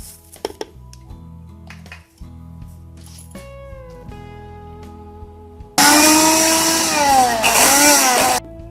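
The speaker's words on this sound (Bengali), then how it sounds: "আমি এখন গাজরগুলোকে সাথে চিনি দিয়ে ব্লেন্ডারে ব্লেন্ড করে নিব" A loud blender motor roars to life after some quieter clinking and kitchen handling, whirring steadily for a few seconds through carrots and sugar, with a brief dip in pitch.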